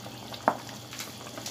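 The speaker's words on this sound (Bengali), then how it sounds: "এটা একবার ভেজে নিলাম মাংসগুলা" Chicken pieces fry in a pan with a faint, steady sizzle, broken once by a single sharp utensil knock.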